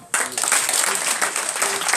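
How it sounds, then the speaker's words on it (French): A crowd at an RHDP political rally in Sinfra, Côte d'Ivoire, breaks into applause that starts abruptly and stays as thick, continuous clapping, with a few voices mixed in. "On applaudit."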